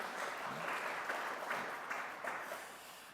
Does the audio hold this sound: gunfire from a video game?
no